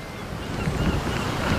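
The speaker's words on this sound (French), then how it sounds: "Ça y est, les vagues arrivent à cause de la marée de tempête." Storm-surge waves break in a steady, rushing roar, mixed with gusty wind buffeting the microphone.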